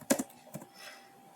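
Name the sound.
typing commands on a computer keyboard into a Cisco switch CLI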